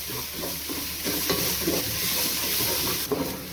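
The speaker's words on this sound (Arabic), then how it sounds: "واقلب الثوم في الشعريه بقى لحد ما كله يحمر وياخد لون دهبي جميل كده" Garlic and vermicelli stirred in a hot pan for lentil soup, a continuous close sizzle with a few soft scraping strokes of the spoon.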